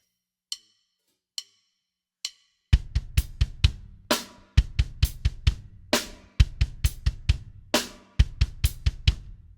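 Three sparse metronome clicks at 70 BPM lead into fast, steady bass drum strokes in repeated bursts of five, each ending in a short pause, close and loud.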